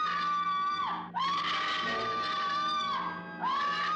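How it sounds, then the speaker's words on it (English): A woman in a horror film screams: two long, loud, high-pitched shrieks with a brief break between them, then a third scream rising at the end, close and sustained, with no talk. "Damn, you screaming!"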